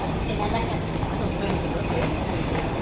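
An airport train in Singapore rumbles steadily for a few seconds, a close, continuous rolling noise with faint clicks, while voices murmur underneath.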